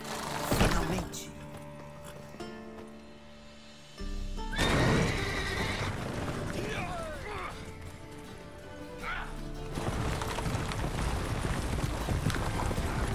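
Horses in The Witcher 3 game neighing loudly several times, with clip-clop hooves, game music and thuds around them, and a voice speaking at points.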